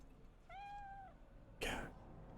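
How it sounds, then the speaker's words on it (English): A cat in Cyberpunk 2077 gives one clear, drawn-out meow up close, followed by a brief sharp rustle or thump. "Is that a cat?"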